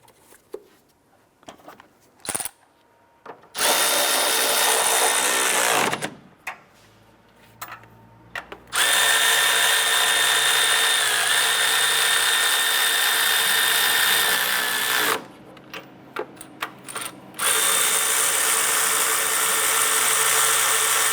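A power tool, likely an impact driver or ratchet, runs in several long loud bursts while snugging down lower engine mount nuts on a 2001-2005 Honda Civic, separated by quieter ticking and clicks between passes.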